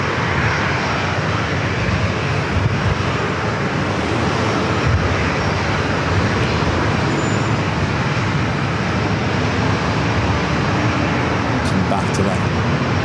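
A 17-year-old Boeing 737-800 on flight 104 to Reagan National runs its jet engines at San Diego airport, a continuous broadband roar heard throughout with faint talking in the background.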